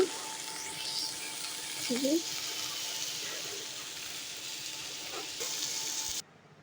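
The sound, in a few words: leafy greens (shak) frying in a pan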